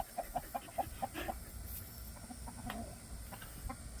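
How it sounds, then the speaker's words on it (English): Rhode Island Red chickens cluck softly in a rapid series of short notes, fairly faint, over a steady background hiss. "So last but not least, chickens. Got some Rhode Island Reds."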